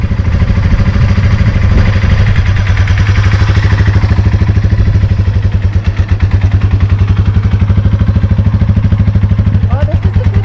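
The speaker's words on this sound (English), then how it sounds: "You need the clutch in to start it." A motorcycle engine starts and runs with the clutch held in, settling into a loud, steady, rapid idle chug close by that lasts throughout.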